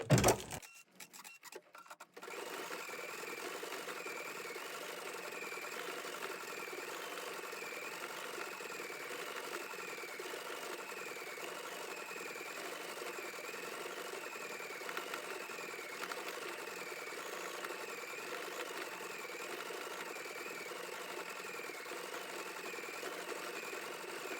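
An embroidery machine stitches the centre of a dimensional Rosemaling flower, running steadily and evenly for over twenty seconds after a few brief handling clatters, with no talking.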